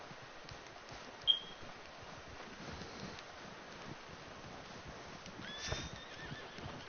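A horse in Red Dead Redemption 2 gives a faint whinny late in the clip, with soft hoof clops and light wind in a snowy setting.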